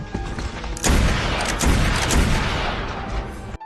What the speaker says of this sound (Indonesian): Jacob dan Martha berlari keluar, dan menembak salah satu penculik